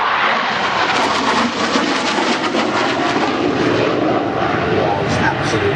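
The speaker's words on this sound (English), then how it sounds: "this aircraft with the ability to vector the thrust" A thrust-vectoring jet flying at the 2005 Biggin Hill Airshow gives a loud, steady, broad roar that fills the whole stretch, while a voice talks over it.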